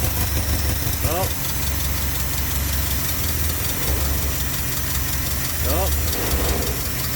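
A 1962 Pontiac Grand Prix 389 V8 idles steadily and loud throughout after long storage, its low rumble constant, with brief voices speaking over it a couple of times.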